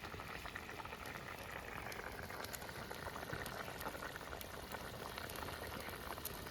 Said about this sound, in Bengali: তো তোমরা দেখতেই পাচ্ছ ভালো সুন্দর করে টকবক করে ফুটছে।